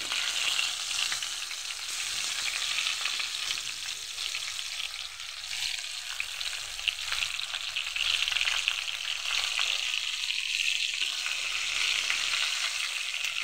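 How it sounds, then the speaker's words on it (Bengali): Eggplant slices sizzle steadily in hot oil in a frying pan, a dense, continuous close crackle that holds level throughout with no voices. "এখন আমি বেগুনগুলো ভেজে নিচ্ছি। তার জন্য আমি এখানে ফ্রাই প্যানে তেল দিয়ে দিয়েছি, তেলগুলো গরম হয়ে গেছে।"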